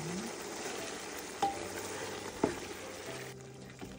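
Chicken liver frying in a pan for arroz valenciana, a soft, steady sizzle with a few small clinks and bumps scattered through.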